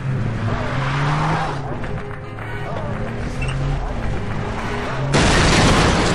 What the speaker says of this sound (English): Oh, this is not how you drive a car.